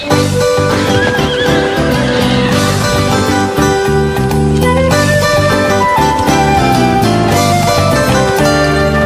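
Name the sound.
horse neighing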